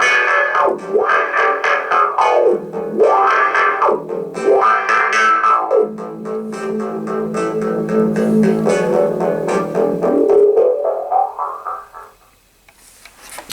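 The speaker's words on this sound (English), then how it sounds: "A very basic wah sound from a wah pedal." Rocker wah expression pedal sweeping a phone ringtone melody played through it, the tone repeatedly swelling and closing in slow vocal-like arcs, then holding a steadier filtered setting before cutting off; loud and alone, no talking.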